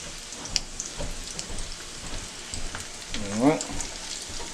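Cajun shrimp deep frying in hot oil give a steady close sizzle and crackle, with a brief splash and bubbling burst as more shrimp drop in.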